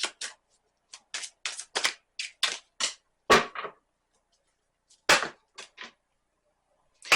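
A tarot card deck being shuffled by hand, with a run of close, sharp snapping riffles and flicks in uneven bursts separated by short pauses, no talking.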